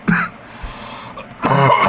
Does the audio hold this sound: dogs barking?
no